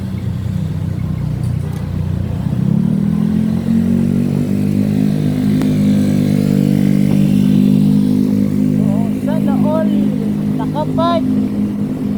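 A motorcycle with a loud aftermarket exhaust pipe rumbles steadily at night on a road from Quezon City toward Antipolo, its deep drone swelling as it passes, with faint wind buffeting and brief clatter near the end.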